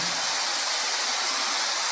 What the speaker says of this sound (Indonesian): Padahal hujan suaranya kayak gini yo.